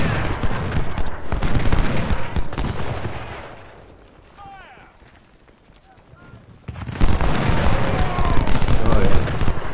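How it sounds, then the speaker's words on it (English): Massed rifle fire from troops in Ultimate General: Civil War crackles in thick, continuous volleys, fading to a quiet stretch with a few distant shots before resuming loud and sustained, with battlefield ambience throughout. "they're firing up that hill. They're doing ranged fire."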